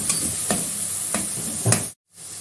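Freshly pounded ginger garlic paste frying in a pan hisses loudly and close, with four sharp spatula strokes scraping through it before the sound cuts off briefly; nobody speaks.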